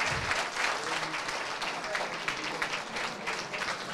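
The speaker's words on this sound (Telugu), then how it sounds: "give a big round of applause please" An audience applauding at a college event, a dense, sustained clapping from a large crowd filling the whole stretch at an even level.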